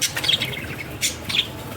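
Brief bursts of high, thin chirps from caged pet birds close by, a few quick tweets over a soft background rustle.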